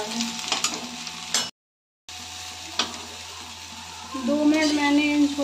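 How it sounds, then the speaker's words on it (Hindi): Chickpeas fry in two spoons of mustard oil, giving a steady close sizzle with occasional stirring scrapes, a short break of silence, and louder bubbling crackle toward the end. "अब हम इसमें छोलों को फ्राई करते हैं 2 मिनट के लिए"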